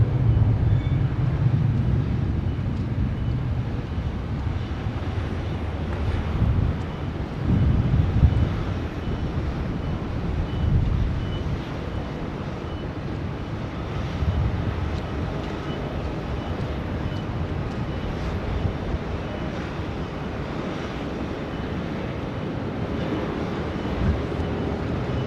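An aircraft landing on runway 16 right at Sydney Airport, a continuous low engine roar and rumble that swells and holds steadily for about twenty-five seconds, heard from a distance with no speech.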